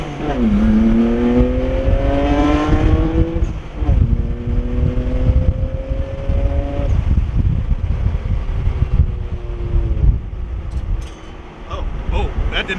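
An R32 Skyline GTR with a Greddy suction kit and no boost restrictor accelerates hard through several gears, each pull rising in pitch before a shift, loud and close over wind and road noise.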